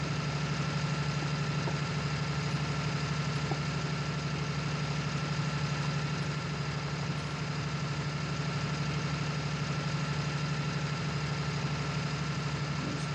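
A Case tractor engine in Farming Simulator 19 runs at a steady idle, a continuous low droning hum with an even throb that holds unchanged and fairly loud throughout, with no talking.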